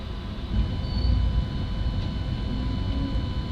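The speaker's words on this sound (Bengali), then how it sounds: "তখন আমাদের ট্রেন এসে পৌঁছালো পাকুড় স্টেশন" A train pulls into Pakur station in Jharkhand at night, giving a steady low rumble of wheels and carriages, close and continuous, with a faint high whine over it and no voices.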